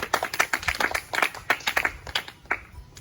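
Scattered applause from a quiz audience after a correct answer, individual claps distinct and uneven, a small group clapping close by that thins out toward the end.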